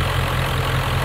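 A vehicle's diesel engine idles steadily on plastic-derived diesel, a close, even low rumble with a constant throb, unrevved and running smoothly with no choking or misfires.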